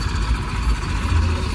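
A modified tractor engine idles at a standstill with a steady low chugging throb, loud and continuous and without speech.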